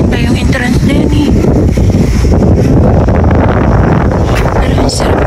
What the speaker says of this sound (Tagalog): Pero ang sarap ng hangin.